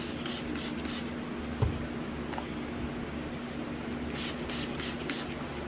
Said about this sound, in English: But I spray these all over